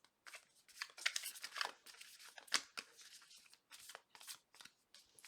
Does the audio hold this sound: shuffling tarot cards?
yes